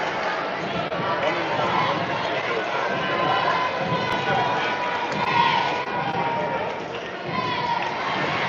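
A high school basketball game crowd roars steadily in a gym, a dense sustained wall of cheering and shouting that stays loud throughout.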